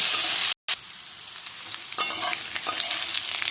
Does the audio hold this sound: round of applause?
no